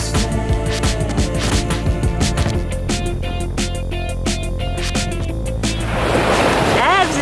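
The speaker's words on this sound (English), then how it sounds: "It's your first time at the beach." Ocean waves break at a beach in Japan, a steady wash of surf under busy clatter and tonal sounds, swelling into a louder breaking rush near the end.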